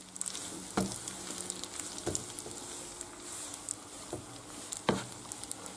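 Spaghetti carbonara stirred in a pan taken off the heat, with a soft continuous sizzle and a few sharp utensil clacks against the pan spaced about a second apart.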